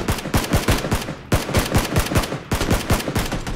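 Rapid, loud gunfire in the PUBG video game, sharp close shots in quick rhythmic bursts with brief pauses between strings, heard alone with no talking.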